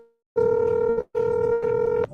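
A telephone ringback tone on an outgoing call, two long steady electronic tones separated by a short pause, loud and close with nothing else heard.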